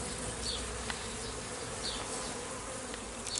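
Honey bees buzz at an open hive during a spring inspection, a dense, continuous hum with individual bees zipping past close by, steady and moderately loud with no talking.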